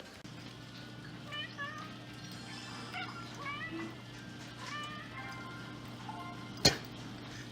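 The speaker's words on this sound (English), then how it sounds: "the cat's meowing at me" A house cat meows repeatedly, short, fairly close calls under a steady indoor hum, with a brief sharp knock near the end.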